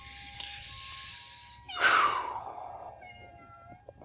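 A cat lets out one loud, drawn-out meow close by, rising sharply and then fading, with quiet background sound before and after.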